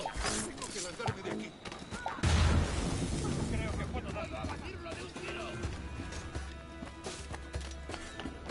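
A booming explosion in Assassin's Creed Black Flag erupts partway through, loud and rumbling with debris and crackle trailing off, mixed with game music and effects while a person talks over it.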